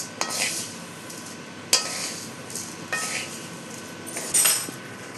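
Toor dal dry-roasted in a pan, a dry rattling stir with several sharp clinks of a utensil against the metal, close and intermittent over a low background.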